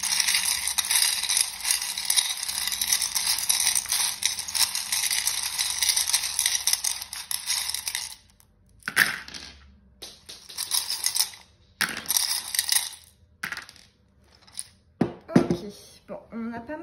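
Small divination charms cast and scattered onto a twelve-house board, a series of light clattering, rattling clicks like dropped coins in short bursts, following a long stretch of bright hiss.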